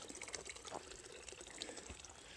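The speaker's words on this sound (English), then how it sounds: "It's a piped spring." Water runs from a piped spring beside the Pacific Crest Trail, a faint, steady splashing trickle with small bright drips heard alone and close.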